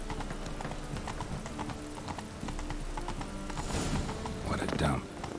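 Horse hooves clip-clop at a run in The Witcher 3, a rapid steady hoofbeat rhythm under game sounds and voices, with a brief whinny-like sound near the end.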